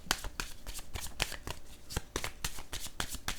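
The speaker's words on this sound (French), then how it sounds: "Je vais piger quelques autres cartes." Tarot cards being shuffled and drawn, a rapid run of crisp riffling flicks and slaps repeating steadily and close up, with no talking.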